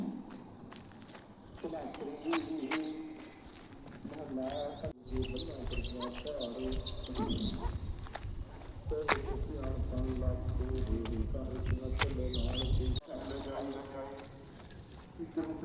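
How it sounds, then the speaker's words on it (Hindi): Birds call outdoors in the early morning before dawn: scattered, fairly faint chirps and whistles mixed with insect noise, with someone talking over them at times. "पक्षियों की कैसी आवाज़ आ रही है"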